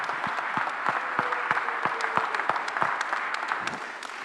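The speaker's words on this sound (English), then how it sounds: "Let's give them a round of applause" A seated dedication-ceremony crowd applauds three honored alumni, with steady, moderately loud clapping from many hands and sharper individual claps standing out near the listener.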